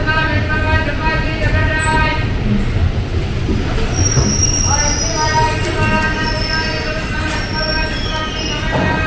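A train pulls into Dharmavaram Junction station in India, with a loud, continuous rumble of wheels and carriages and sustained metallic squeal throughout, a few faint voices mixed in.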